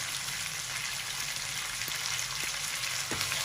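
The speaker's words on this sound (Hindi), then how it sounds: "और इस नमक के साथ हम चिकन को फ्राई कर लेंगे।" Chicken with salt fries in a karahi over medium to high flame for Afghani chicken karahi, a soft steady sizzle with a few faint spoon taps, quiet and even with no talking.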